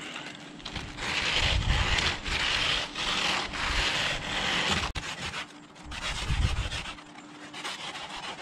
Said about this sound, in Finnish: Elikkä hiotaan.